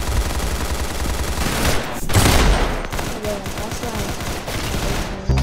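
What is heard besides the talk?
gunfire in a video game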